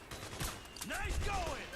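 Gunfire in the PS3 game Metal Gear Solid 4: Guns of the Patriots comes as a few quick, quiet bursts near the start, followed by softer game sounds and tonal effects underneath.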